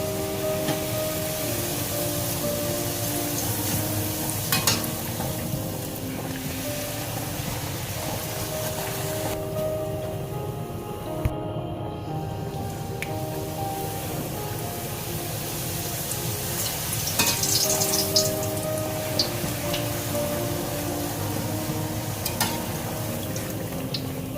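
Puris deep-fry in hot oil for halwa puri, a continuous close sizzle and bubbling with occasional clinks and small splashes, steady throughout with no talk.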